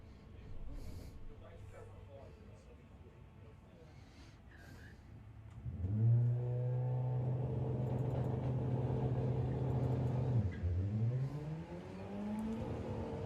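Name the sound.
Volkswagen cars launching in a drag race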